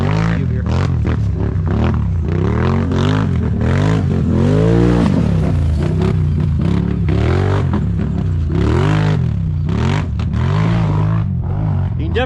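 A Can-Am Renegade ATV engine revs hard on a rough race track, its throttle rising and falling over and over, loud and close, with rattling and scraping from the machine.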